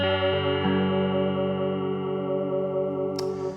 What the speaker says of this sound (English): let's switch the vibrato on first and have a listen to how that sounds